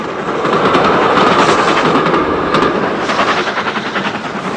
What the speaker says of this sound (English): An evening commuter train terminating at Lapworth is hauled by a large Prairie Tank